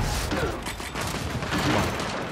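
Gunfire in a Gears 5 free-for-all match: dense, rapid bursts of shots with mechanical clatter, loud and continuous across the short span.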